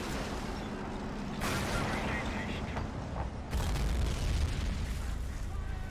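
Artillery fire rumbles through a Men of War: Assault Squad battle on the Rhine, US defense against a German advance, with sustained low booms and a heavier burst midway, all under continuous battle noise.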